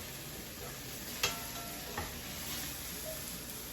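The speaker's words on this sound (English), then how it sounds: "we're gonna rotate these because we're just browning on the sides here" Eggplant pieces brown in a pan for curry stuffed eggplant, a faint steady sizzle with two short clinks as pieces are turned, close but quiet.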